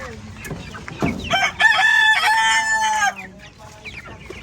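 A few close clucks, then a loud rooster crow of a couple of seconds, followed by softer clucking from chickens nearby.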